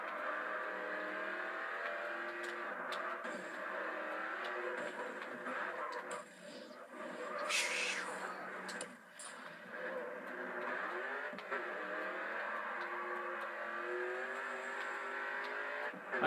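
A race car engine in the GRID 2 racing video game drones continuously at high revs, with gear shifts and a brief squeal partway through, loud and steady with no talking.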